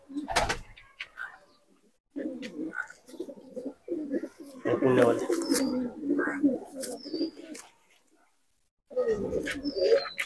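Short-sized Punjabi Malwai pigeons, a yellow-eyed male and white-eyed female, coo in repeated low rumbling phrases close by, with brief pauses and a few faint chirps and knocks between bouts.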